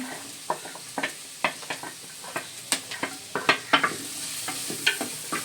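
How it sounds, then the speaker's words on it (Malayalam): Small shallots frying in a pan for a Kerala-style varutharacha mutton curry, a soft sizzle beneath frequent sharp clicks and scrapes of a spoon stirring against the pan, irregular and close. "ഇനി നമുക്ക് ആ ചെറിയ ഉള്ളി ഇട്ട് കൊടുക്കാം."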